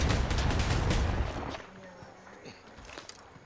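Rapid bursts of gunfire from a first-person shooter video game fill the opening moment, dense and loud, then fade to sparse distant shots and scattered footsteps.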